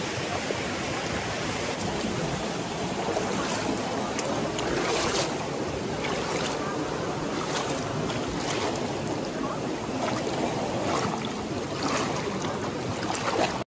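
A river in Palawan flows with steady, broad rushing and splashing that stays loud for the whole stretch, mixed with buffeting wind noise on the microphone.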